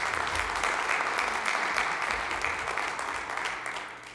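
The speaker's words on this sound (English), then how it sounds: "Let's give him another round of applause" An audience at a hall of fame induction ceremony claps steadily in a dense, even wash of applause that fades a little toward the end, heard alone without speech.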